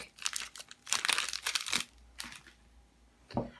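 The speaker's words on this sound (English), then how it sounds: "remembering to shape it down and twist the end of the piping bag" A plastic piping bag filled with a savoury filling is twisted and crinkled at close range, giving bursts of crisp rustling that come and go in uneven clusters, with a final sharp crackle near the end.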